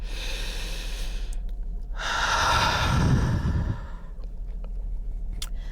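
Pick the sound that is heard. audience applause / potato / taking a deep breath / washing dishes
taking a deep breath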